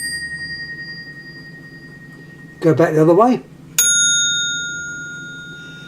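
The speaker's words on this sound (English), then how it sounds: "these are 2 bells which are slightly different to give you the right tone" Old telephone bells, a hammer striking two slightly different gongs, give a sharp bright ring that decays slowly after someone briefly speaks; a fainter sustained ting fades beforehand.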